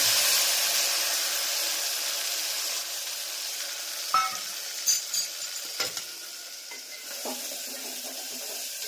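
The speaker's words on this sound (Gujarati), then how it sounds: "જીરું મેથીનો પાવડર અને આ દેશી ટમેટા મસ્ત મજાના વઘાર" Steady hot-oil sizzle with a loud hiss throughout as country tomatoes, cumin and fenugreek powder temper in the pan, joined by a few clinks of a spoon against the pan near the end.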